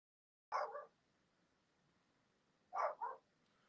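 A dog lets out two short double barks a couple of seconds apart, fairly close but moderately quiet over a faint background hiss, with no talk.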